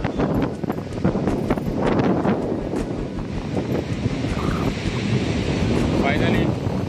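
Strong gusting wind buffets the microphone at Costa da Caparica beach in Portugal, with ocean surf rolling and breaking underneath, loud and close throughout.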